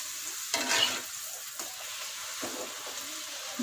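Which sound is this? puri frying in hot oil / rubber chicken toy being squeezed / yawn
puri frying in hot oil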